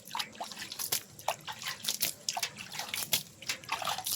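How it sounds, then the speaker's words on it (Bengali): Potted gloxinia plants being watered at home, a gentle stream of water trickling and dripping into soil in an irregular, soft patter close by. "এবার আমরা জল দিয়ে দেবো সবকটি গাছে।"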